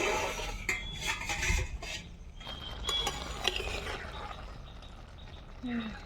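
A cooking pot lid lifted off during a village-style meal of water lily stems with rohu fish head, a few metallic clinks and scrapes of lid and pot, soft and close, with faint kitchen bustle between.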